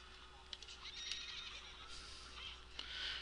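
A horse whinnies in Zelda: Ocarina of Time, giving several faint neighs with light hoof clip-clops underneath, quiet against the game's background.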